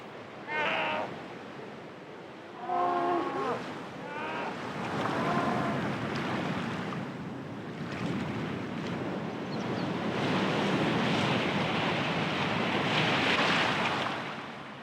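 Strong wind gusts and rough sea surf roll steadily around Isla Mocha, with broad rushing noise swelling and easing through the whole stretch and some squeaky calls near the start.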